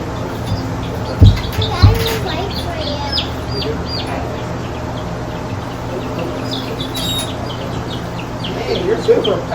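Chickens cluck and call inside a coop at close range, and two sharp knocks break in early on. Soft bird chirps continue throughout while people talk nearby.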